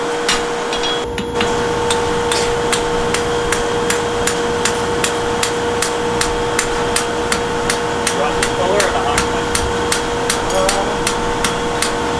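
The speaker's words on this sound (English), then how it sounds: "we'll go ahead and trim the bevel on the end of it." Steady hammer blows trimming the bevel on the end of a straight-blade draft horse fuller, roughly evenly spaced sharp metallic strikes at close range over a constant background hum.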